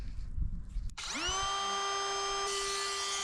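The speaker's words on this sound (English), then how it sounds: "So this is one piece of 3/4 inch PVC. It's mounted to the bottom and routed on. Here's the second piece. We're gonna route that right now." A router spinning up to cut a 3/4 inch PVC piece during a composting toilet install: a short clatter, then a quick rising whine that settles into a steady, piercing high-pitched tone.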